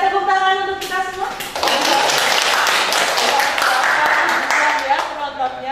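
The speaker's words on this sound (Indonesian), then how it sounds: "Boleh kita tepuk tangan untuk kita semua?" An audience at an evening talk event bursts into applause after a brief musical tone, with clapping swelling and holding steady while voices carry over it.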